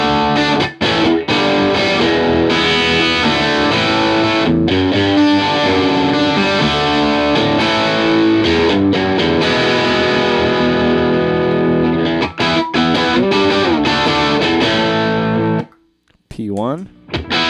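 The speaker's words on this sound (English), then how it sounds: "Up the distortion." A heavily distorted electric guitar through a Pete Cornish P1 distortion pedal plays loud, sustained chords that cut off abruptly near the end, followed by a brief swept effect.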